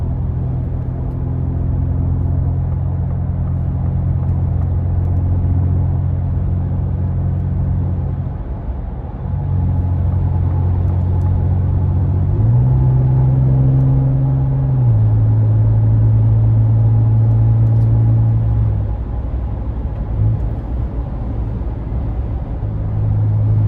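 Ford Ranger Raptor in Baja mode cruising on the freeway around 2,000 RPM, giving a steady, loud low engine drone and road rumble with shifting pitch, continuous throughout with no talking.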